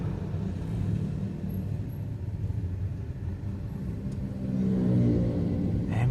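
Cars and other vehicles pass along a road in Bali, a steady mid-distance rumble of engines with one vehicle accelerating and growing louder near the end.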